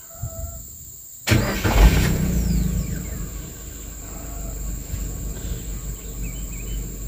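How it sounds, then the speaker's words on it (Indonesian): A vehicle engine, started before setting off to sell harvested sugarcane, cranks and abruptly catches up close, then settles into a steady idle with faint insect chirps in the background. "kita hidupkan mesinnya"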